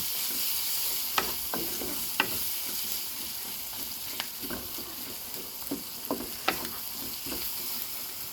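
Fish coated in salt and turmeric fry in hot oil with a steady close sizzle, punctuated by irregular spatters and pops and the occasional scrape of stirring.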